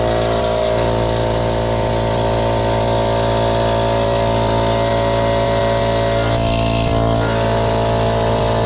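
A Harbor Freight 8-gallon air compressor runs loudly and steadily as it fills its tank, a constant motor drone and hum that holds unbroken close to the listener throughout.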